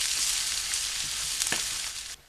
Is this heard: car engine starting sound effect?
no